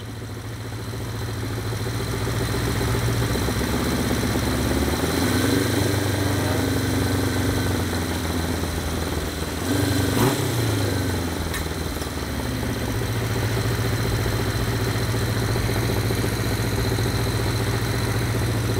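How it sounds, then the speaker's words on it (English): A vintage Honda CB350F four-cylinder motorcycle engine runs steadily at around 2000 RPM during carburetor vacuum synchronization, a continuous loud, even mechanical hum and drone close by with no talking. "I'm gonna bring that RPM up a little bit to just a little bit above 2000 RPM."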